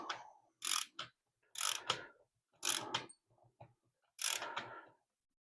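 A ratcheting torque wrench tightens bolts on a C4 transmission to 10 foot-pounds, making five quick clicking bursts that are close and crisp, with short silences between them.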